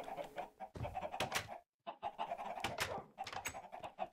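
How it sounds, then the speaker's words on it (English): Continuous clucking and squawking from several chickens in a video game's basement, busy and overlapping, with a brief silent gap in the middle. "They filled my basement with chickens!"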